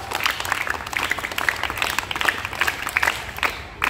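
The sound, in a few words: audience applause for the patrol presentations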